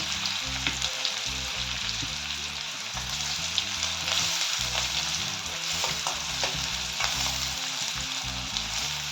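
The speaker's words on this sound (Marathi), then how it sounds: "जो मगाशी चिरलेला बारीक कांदा होता तो टाकते" Finely chopped onion frying in hot oil, a dense continuous sizzle and crackle with occasional stirring scrapes, close and steady with no voices.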